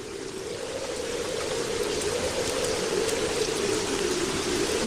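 Rain falls during a storm in a steady rushing wash, with an even, full roar that swells slightly and continues unbroken with no speech.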